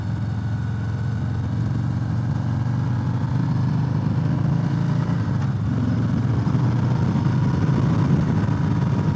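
A 2018 Harley-Davidson Sport Glide motorcycle engine drones steadily up close, its low rumble building slightly as it accelerates under wind noise.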